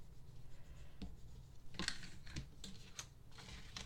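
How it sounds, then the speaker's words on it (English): A bone folder is rubbed over ribbon laid on adhesive tape, making quiet, close, scratchy strokes in a few short bursts against a faint background hum. "with a bone folder I'm gonna just smooth it out, make sure it's really stuck well"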